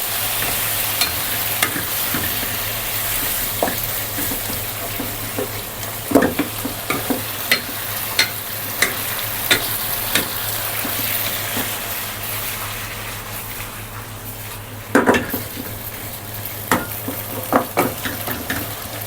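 Beef and basil stir-frying in a hot pan, a continuous oily sizzle punctuated by scraping spatula strokes and clanks against the pan, steady and close with no talking.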